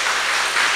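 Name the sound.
church congregation applauding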